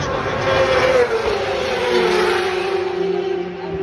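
Isle of Man TT racing motorcycles roar past at speed on a road course, a loud continuous engine drone with a steady high pitch that holds and slowly fades, with no talking over it.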